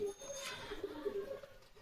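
Young pigeons of the Andhra or Madras breed give soft, faint cooing in a low, steady warble, close by with a light background hiss.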